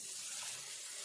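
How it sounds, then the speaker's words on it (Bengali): Water pouring steadily into a pot of Bengali bottle gourd kofta curry after the spices are fried in oil, a continuous close gushing splash with no talking. "জল দিয়ে দেব।"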